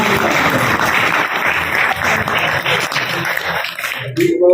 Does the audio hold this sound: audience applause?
yes